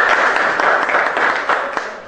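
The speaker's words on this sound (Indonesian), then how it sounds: "tepuk tangan untuk destinasi." Audience clapping at a member meeting, a short burst of steady applause from a group, fairly close, fading slightly at the end.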